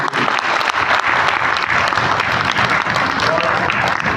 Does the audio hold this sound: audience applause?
yes